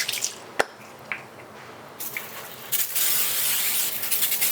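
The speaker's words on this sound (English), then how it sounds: "I'm just spraying my cooking spray in here" A can of non-stick cooking spray fires into a baking pan with a few short hisses and ticks, then a longer steady spray, up close with no one talking.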